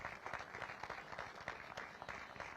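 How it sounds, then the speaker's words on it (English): Audience applause at an outdoor ceremonial blessing for a DC Water tunnel project, a steady wash of many hands clapping at moderate level with no talk over it. "So again, give the taxpayers another round of applause."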